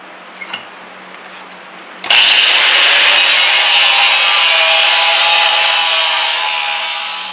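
A power saw cuts into 1/8 inch steel plate for a homemade snow-removal tractor attachment, starting abruptly after a quiet moment and then grinding loudly and steadily, close by, slowly tapering off toward the end.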